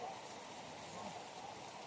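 Rain falls steadily in the Dahilayan highlands, a soft, even hiss of drops on surfaces, with faint voices underneath.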